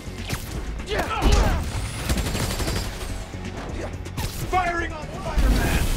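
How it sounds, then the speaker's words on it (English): Enemy gunfire in the video game Marvel's Spider-Man: Miles Morales, rapid shots and impacts crackling through busy combat noise, with louder bursts near the start and end and voices shouting over the action. "Firing on Spider-Man!"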